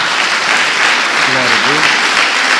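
Loud, dense applause from a church congregation, continuous clapping filling the room with a voice briefly heard beneath it.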